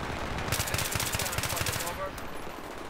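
A Battlefield 3 AEK rifle fires a fast automatic burst of about a second and a half of evenly spaced, close shots, then the game's ambient noise carries on.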